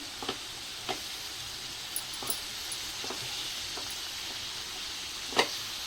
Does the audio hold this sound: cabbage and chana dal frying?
yes